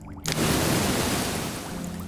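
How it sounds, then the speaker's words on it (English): Water rushes through a large intercepting sewer tunnel in a loud, steady roar that surges in after a brief quiet moment and keeps flowing without pause. "There's lots of water flowing through this intercepting sewer."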